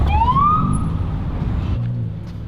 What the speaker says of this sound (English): turn off your sirens